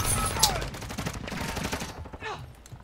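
Call of Duty MW2 gameplay gunfire, rapid bursts of automatic shots crackling close with game effects and a whooshing sweep, a voice talking briefly over it.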